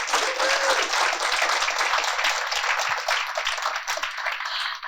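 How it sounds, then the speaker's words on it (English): A roomful of attendees at a professional training event applauds, a dense, even wash of clapping that stays loud and steady throughout, with a brief vocal tone near the start. "let's give Dr. Maribelle a big round of applause."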